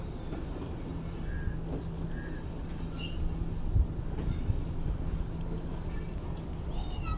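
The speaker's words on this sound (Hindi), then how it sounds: "लोकोमोटिव खड़ा है, बहुत खूबसूरत लोकोमोटिव और स्पीड वाइज भी काफ़ी अच्छा भागता है ये।" A Karakoram Express train rolls through Kotri Junction in Pakistan, with a steady low rumble of wagons and wheels, brief metallic squeals, and occasional faint voices beneath the continuous noise.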